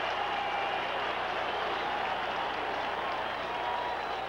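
A stadium crowd at a 1981 Denver versus Buffalo Bills football game roars in a constant, dense wash of cheering that holds steady without a break.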